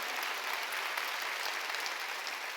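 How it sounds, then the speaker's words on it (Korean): A church congregation at a Sunday worship service breaks into steady, dense applause, many hands clapping together at moderate distance, filling the space evenly without a pause. "깨달은 사람만 박수 주세요"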